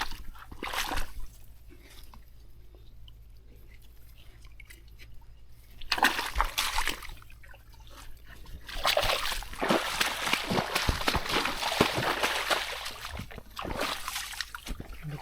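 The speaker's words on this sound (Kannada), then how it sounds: "ನೀರು ಜೋರು ಬರ್ತೈತೆ." Water flowing strongly through an areca nut plantation, rushing and splashing in loud surges with quieter gaps between, heard close with some faint voices in the background.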